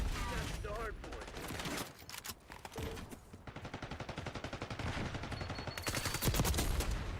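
An AK rifle in the multiplayer shooter Black Ops 6 fires in long, rapid automatic bursts, loud and close, with explosions and other battle noise around it and someone talking briefly early on.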